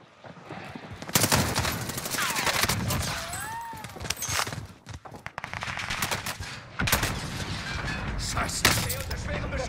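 Bursts of automatic gunfire from a Call of Duty: Warzone match, loud rapid volleys with sharp cracks, broken by short pauses and overlapping game sounds, with players talking over the shooting.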